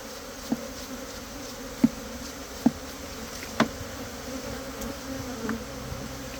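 Wild cavity-nesting honeybees hum in a steady, close buzz during a hive harvest, punctuated by a few sharp clicks or taps.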